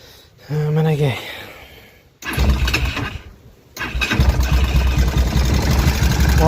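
A motorcycle engine starts after a brief attempt and settles into a loud, steady idle close by, with a voice heard near the start.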